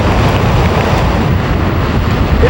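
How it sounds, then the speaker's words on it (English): Strong wind gusting over 40 miles an hour and surf on Moonstone Beach as a storm approaches, a loud, continuous roar with heavy wind buffeting the microphone throughout. "The winds have been gusting over 40 miles an hour."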